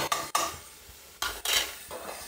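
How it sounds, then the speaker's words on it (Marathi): Vegetables and salt stirred in a pan for a rice vegetable dish make several quick scraping, clinking strokes of a spoon against metal with a faint sizzle beneath, close and alone. "मीठ आणि भाजी एकजीव असं छान असं परतून घेऊया"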